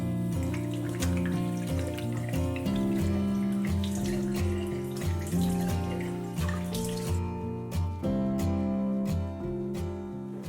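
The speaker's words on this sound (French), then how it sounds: "Je me lave les mains d'abord soigneusement, puis je me mets un grand coup d'eau froide sur le visage." Tap water runs into a sink in a steady close stream as hands are washed and cold water is splashed on the face. Light splashes and drips break the flow, with music playing along underneath.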